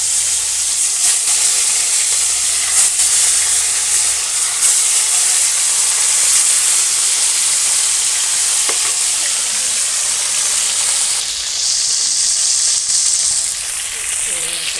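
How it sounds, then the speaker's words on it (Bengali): Bhola fish fries in hot oil, a loud, continuous close sizzle and hiss that runs steadily throughout, with a brief rise in the hiss toward the end. "মাছ ভাজা হয়ে গেছে"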